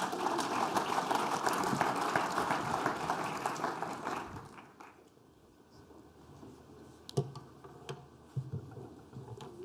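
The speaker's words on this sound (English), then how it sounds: "Let's give her a big round of applause, please." Audience applause at a conference closing session, dense clapping for about four seconds before fading into quiet room tone with a few scattered claps and small knocks.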